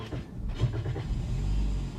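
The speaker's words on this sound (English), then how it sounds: "So the vehicle is started up." A car engine is started during a beginner driving lesson, heard as a low, close rumble that swells into a steady idle over about two seconds, with no talk.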